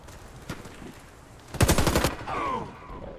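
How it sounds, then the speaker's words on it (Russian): Gunfire in the Warface shooter game, a quick automatic burst hammering out near the middle, then a second shorter spray just after, with a faint shot or two earlier and no talking. "по мне стреляет сзади, гад"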